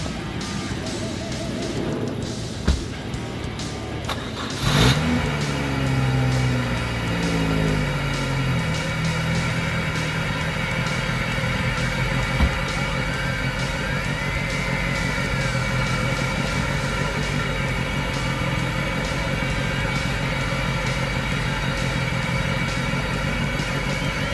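A Ford Focus ST engine with a boost leak at the intake catches with a sharp burst, then settles into a steady idle, running evenly and close by for the rest of the stretch.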